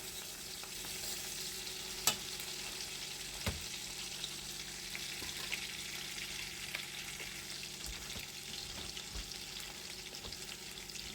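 Onions frying in a pan, a steady faint hiss and sizzle running throughout with a few small clicks and taps, no voices.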